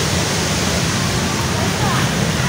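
Hogenakkal waterfall roaring nearby, a steady dense rush of falling water filling the whole clip with constant loud broadband noise.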